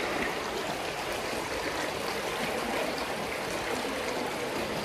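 A river stream flows steadily in a hot, sunny outdoor spot along a hiking trail, a continuous close rushing and trickling of water with no voices.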